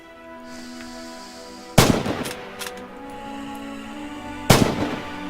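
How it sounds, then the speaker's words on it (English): Two loud rifle shots ring out in Rising Storm, one near the two-second mark and another about three seconds later, each with a sharp crack and a rolling echo over quiet background ambience. "Use your iron sights and engage the targets."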